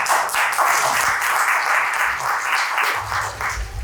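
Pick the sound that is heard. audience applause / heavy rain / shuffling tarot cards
audience applause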